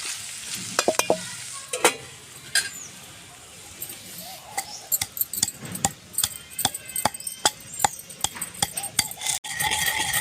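Curry cooks in a pan while a utensil stirs and scrapes it, giving sharp, irregular clinks and scrapes over a soft frying sizzle, close and fairly loud.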